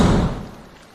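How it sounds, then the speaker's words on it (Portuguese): A door slams shut in a horror tale. The single heavy thud is low and booming and fades into a dull rumbling tail within a second. "A porta se fechou atrás deles"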